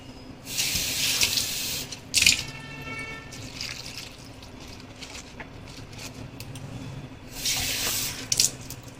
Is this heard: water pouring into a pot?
yes